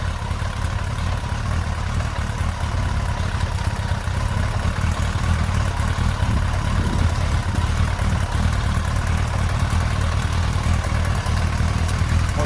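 Yamaha XJ900S Diversion motorcycle engine idling steadily after carburettor balancing, a continuous low throbbing hum close by with no voices.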